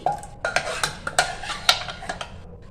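Cooked arhar dal with mango being poured from a pot into a bowl in a home kitchen, heard as a run of close, sharp metallic clinks and scrapes of utensil against vessel, with no talk.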